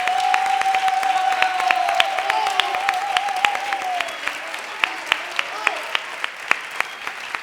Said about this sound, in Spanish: Y el aplauso más fuerte para mi compañera Chari.